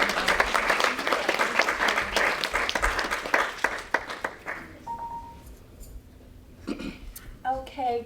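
Audience applause at a nonprofit fundraising dinner, a dense burst of clapping filling the first half before fading out, with voices and a faint tone appearing as it dies away.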